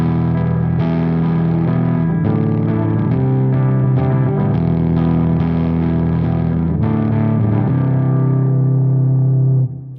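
An Axe Fx multiband distortion preset with only its extreme low band sounding, run through a compressor, gives a loud, thick, droning distorted guitar tone held over several sustained chords that fade at the end.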